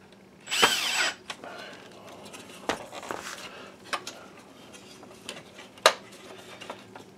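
A power drill drives screws back into an Optoma UHD51A DLP video projector: one sharp whirring burst near the start, then scattered clicks, taps and handling knocks close by.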